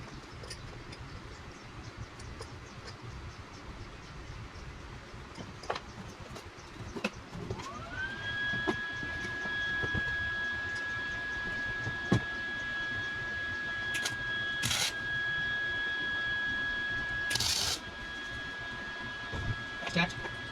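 A small electric pump runs on a CFMOTO ZForce 800EX UTV, spinning up into a faint, steady whine that holds for several seconds beneath low background noise.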